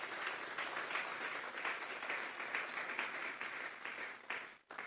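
A church congregation claps together in sustained applause, a dense rattle of many hands heard from some distance, holding steady for several seconds before breaking off abruptly near the end.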